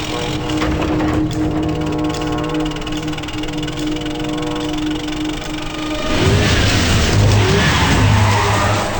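A car drives fast in a chase, its engine droning steadily up close before a louder rush of revving and tyre noise surges in near the end.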